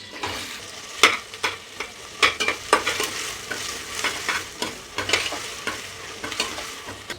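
Onions sizzle in about four tablespoons of hot oil for a goat intestine gongura curry, with repeated spatula scrapes and stirring knocks against the pan over a steady frying hiss, close and fairly loud.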